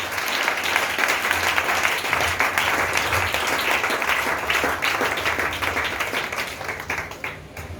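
A church congregation applauds continuously, dense steady clapping from many people filling the room, fading slightly near the end.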